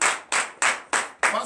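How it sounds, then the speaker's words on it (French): Congregation at a morning prayer service clapping in acclamation: five loud, evenly spaced collective claps about three tenths of a second apart, close and crisp with no talking between them. "donnez la acclamation."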